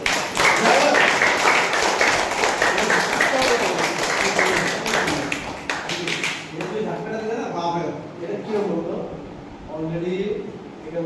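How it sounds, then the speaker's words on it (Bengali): Loud clapping rings out during a girls' self-defence class, a dense burst of sharp claps for several seconds that fades into voices talking. "জোরে হাততালি"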